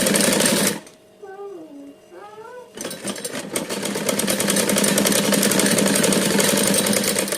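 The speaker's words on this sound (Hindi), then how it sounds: "हम यहाँ से आप डबल सिलाई कर लेंगे, सेम इसको सिलाई लगा कर चले जाना है।" A sewing machine stitches an umbrella frock, its loud rapid whirring running almost throughout and pausing for a couple of seconds while a voice speaks over the quieter stretch.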